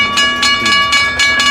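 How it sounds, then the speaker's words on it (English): A train slowing in the Trainz simulator, passing a level crossing with flashing lights and a lowered gate: a steady rumble with a clear sustained tone on top and rhythmic wheel clacks pulsing about every quarter second, loud and close. "let me go ahead and slow the train"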